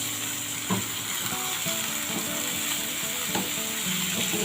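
Chopped sausage hits a hot pan already fragrant with ginger and sets off a loud, continuous sizzle and crackle, with light clinks and scrapes of stirring throughout.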